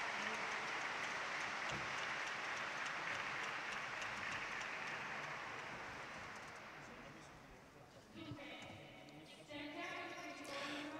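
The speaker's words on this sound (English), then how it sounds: "Let's give him an applause." Audience applause at a conference on the unity of the person, a steady wash of many hands clapping for several seconds that fades out before a voice begins speaking.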